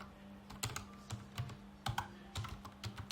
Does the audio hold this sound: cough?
no